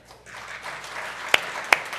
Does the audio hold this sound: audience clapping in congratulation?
yes